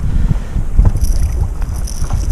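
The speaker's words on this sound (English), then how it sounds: "the wind's pushing me that way, the current's going the opposite direction" Wind gusting across open water around a stand-up paddleboard out fishing, a steady low rumble of buffeting noise close to the microphone with faint water movement, no voices.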